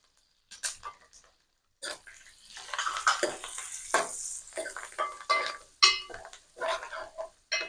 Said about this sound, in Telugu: మంచి ఇట్లా ఫ్రై అయిపోయిందండి, మంచిగా బ్రౌనిష్గా వస్తుంది.